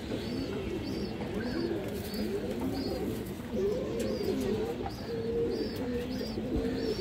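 Old-line pigeons coo in repeated low, rolling calls close by, with a faint high chirp recurring every half second or so over a steady background of birds.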